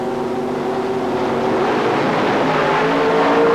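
Pro Stock drag racing cars launch at the 1990 IHRA Gateway Nationals in St. Louis, Missouri. A loud, continuous engine roar builds steadily in intensity.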